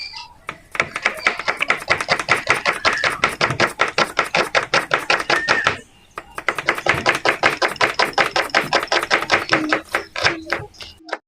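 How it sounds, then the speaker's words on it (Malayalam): Onions chopped on a board with a knife for dum biryani: rapid, even knife strikes in a fast steady rhythm, close and loud, with a brief pause midway before the chopping resumes. "അതിനു വേണ്ടി കുറച്ച് സവാള എടുത്ത് വെച്ചേക്കുന്നത് അത് അരിയാണ്"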